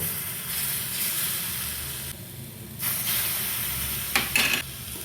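Milk spooned into lightly browned semolina frying in a pan, a loud steady sizzle with stirring, ending in a brief sharper hiss as more liquid hits the hot pan.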